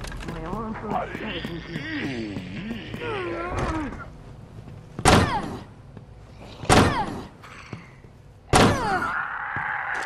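Heavy slams against a locked door being broken down in Resident Evil Resistance, three loud separate thuds spaced a couple of seconds apart, following a stretch of talking.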